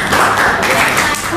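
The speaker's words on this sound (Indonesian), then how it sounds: "Beri tepuk tangan untuk Dilan." Classroom of ninth-grade students clapping after a student's Islamic studies presentation, a dense burst of hand claps lasting over a second with some chatter mixed in.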